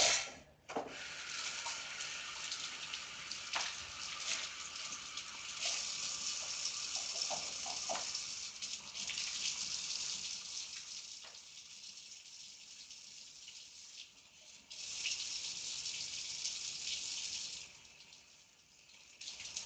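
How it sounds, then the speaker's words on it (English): Tap water runs steadily into a sink during handwashing in a teaching kitchen, a soft continuous hiss with brief splashes and rubbing as the flow shifts, fading near the end. "I do need to wash my hands."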